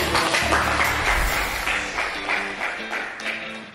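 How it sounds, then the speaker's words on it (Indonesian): A class of pupils gives a round of applause, fairly close, with uneven, scattered clapping and a little background chatter. "Tepuk tangan"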